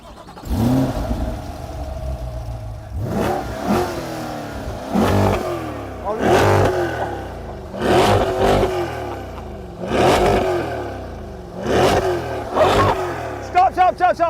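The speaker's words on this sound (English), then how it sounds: "It also means that you get an even nicer sound from the exhaust." A Chevrolet C8 Corvette V8 engine revved hard about six times in a steady rhythm, each burst rising and falling back through the exhaust, loud and close.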